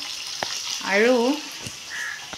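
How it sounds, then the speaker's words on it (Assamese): Fish frying in a pan gives a steady hiss and sizzle through the clip. A bird calls once in the middle. "এয়া মাছ ভাজি আছোঁ মই"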